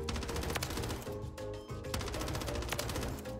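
Rapid automatic gunfire from an HRM build at a Warzone firing range, dense bursts of close, sharp shots in quick succession with a brief pause partway through.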